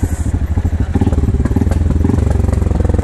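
A CF Moto 450 ATV engine chugs loudly and close on a steep slope, starting in uneven pulses and then settling into a fast, regular thudding beat, with clattering in the mix.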